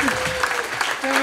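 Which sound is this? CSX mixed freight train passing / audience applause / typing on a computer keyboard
audience applause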